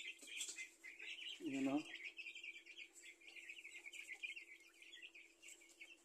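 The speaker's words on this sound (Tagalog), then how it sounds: "Saka bigyan na natin tong malaki-laki natin na sisiw ng Black Astrolop." Young Black Australorp chicks from an incubator peep in a steady, busy stream of high chirps, with a brief nearby voice speaking over them near the start.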